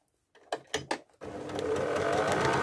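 Sewing machine stitching a zipped pocket: a few short mechanical taps, then a steady, close, whirring run of rapid stitching that builds slightly in loudness.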